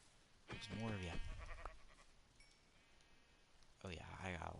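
Sheep in the video game Minecraft bleat twice, two separate wavering, nasal baas a few seconds apart, fairly clear against a quiet background.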